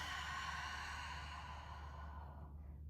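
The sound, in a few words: exhaling during chair yoga breathing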